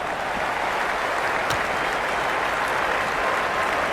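A large crowd at an India vs South Africa T20 cricket match applauds a boundary four with a dense, steady roar of clapping and cheering that fills the whole stretch at constant loudness.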